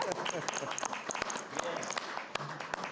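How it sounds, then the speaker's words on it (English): Scattered clapping from a small group at a city council meeting, mixed with some background voices and movement. "I'm giving you a round of applause."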